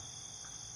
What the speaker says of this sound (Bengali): শুধু ঝিঝি পোকার ডাক ছাড়া কিছুই শোনা যাচ্ছে না।